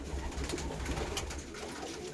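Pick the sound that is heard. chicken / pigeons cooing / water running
pigeons cooing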